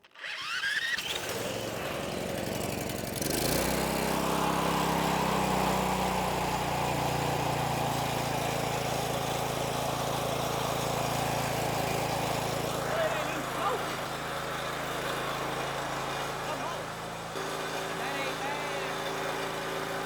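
A Honda GX390 13HP engine runs on choke at a steady, loud drone, with a low rumble that swells and settles and then holds through to the end.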